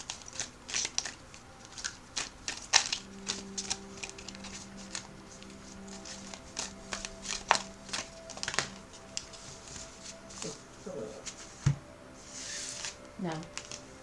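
Tarot cards being shuffled by hand, soft irregular flicks and riffling taps at close range, with a person speaking quietly between and over them.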